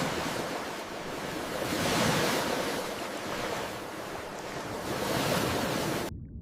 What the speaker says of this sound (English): Listen to the water. Feel the current.